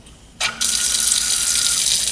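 A lab tap opens to drive a flask aspirator. After a brief hush, water rushes out with a sudden onset, then settles into a loud, steady, close stream splashing into the sink.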